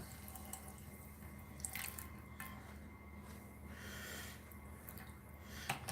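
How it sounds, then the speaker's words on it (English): Water is poured into a skillet in a home kitchen, making faint splashing and dripping sounds with a few soft clinks close by, and no one speaks. "So I'm taking my water up here, put it in the skillet"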